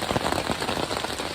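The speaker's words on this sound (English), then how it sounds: "It's literally been pouring all night." Heavy rain pouring steadily onto a tent on the Appalachian Trail, a dense, close, continuous patter of drops with no pauses.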